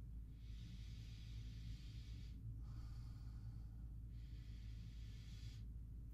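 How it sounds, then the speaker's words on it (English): Three long, close nasal sniffs draw in air at a bar of Mountain Goat menthol soap, each a breathy hiss separated by short pauses, over a low steady hum. "Go ahead and give it a sniff test."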